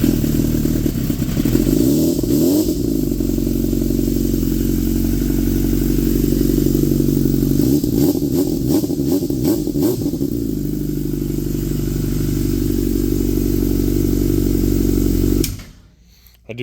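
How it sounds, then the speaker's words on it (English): A rebuilt engine runs steadily at a fast idle in a repair shop, loud and close, with two stretches of rhythmic revving before it cuts off abruptly near the end. "This one is on heat cycles and almost done, ready to go in. It fires right up."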